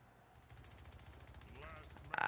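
Rapid bursts of video game gunfire crackle, faint at first and building, with a loud volley at the end, over quiet background talk.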